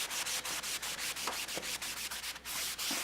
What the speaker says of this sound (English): Let's just buff that out a little bit.